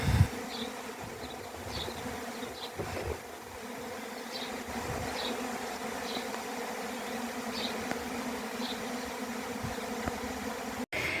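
A settling honeybee swarm buzzes in a thick, unbroken drone heard up close, with individual bees flying past in brief louder swells and a sharp click near the end.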